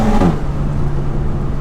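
A 420 BHP Volkswagen Golf GTI Edition 30 accelerates hard in first gear, its engine roaring loud and close with a rising whine that settles into a strong, steady drone.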